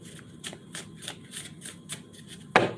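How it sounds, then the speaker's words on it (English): Crisp, rhythmic riffling of a tarot card deck, several quick shuffles in a row ending with a sharper snap, close and fairly quiet with no talking. "2 more shuffles."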